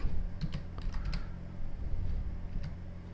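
Rapid keystrokes on a Windows computer keyboard, a run of close clicks followed by a pause and a few more taps, over a steady low background hum with no voices.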